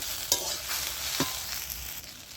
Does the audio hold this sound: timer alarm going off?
no